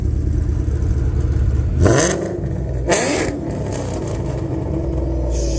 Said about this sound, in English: Can I get a little rev if you don't mind, if she's warmed up?